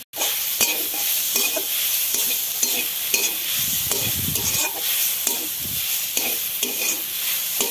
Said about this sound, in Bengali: এখন নারকেলটা আমি ভেজে নিব